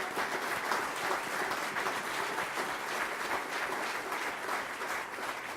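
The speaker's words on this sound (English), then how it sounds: "Let's have a round of applause for that." Applause from the audience at a town board meeting in Orangetown, a continuous, even patter of many hands clapping at moderate volume for several seconds without speech.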